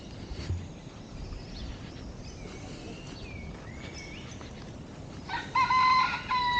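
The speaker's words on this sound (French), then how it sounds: "C'est un coq qui est perché." A perched rooster crows near the end, loud and fairly close, over steady outdoor background noise in a nature park in Portugal. Other faint bird calls come earlier.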